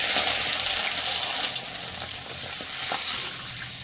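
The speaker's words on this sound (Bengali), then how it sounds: "তো ঘিটা আমার গরম হয়ে গেছে। এবারে লিকুইড দুধ দিয়ে দেবো।" Milk poured into hot ghee in a pan for semolina gulab jamun sizzles and bubbles loudly and steadily, a broad frying hiss that eases slightly after the first moments, with no voices.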